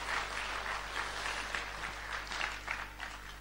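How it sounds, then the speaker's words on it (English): Audience claps after a live performance, a quiet, somewhat distant patter of hands that swells and fades in uneven waves over a steady low electrical hum. "So another round of applause, please."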